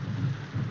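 A 1932 film plays a dense, steady rainfall soundtrack with a low rumbling wash underneath, continuous and moderately quiet throughout.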